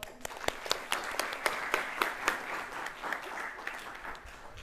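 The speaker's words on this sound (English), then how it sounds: "Please give another applause to Ibu Noni." An audience at a business conference on scaling innovative businesses gives a round of applause; moderate, fairly sparse clapping with distinct individual claps standing out, steady throughout and fairly far off.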